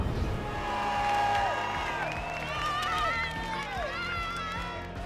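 A stadium crowd before the 100 m start at the Olympic trials sends up a loud, continuous roar of cheering and whistles, with voices talking over it.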